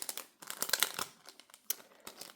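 A small paper packet of stickers with a flower pattern is handled and opened, giving close, quiet crinkling and rustling with a few sharper crackles and tearing sounds, with no talking.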